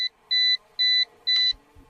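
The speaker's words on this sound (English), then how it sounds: "the controller does beep as you're doing the camera" An ATTOP W70 GPS drone controller beeps four times at an even pace while the camera is being adjusted, each tone clear and steady with short gaps of quiet between.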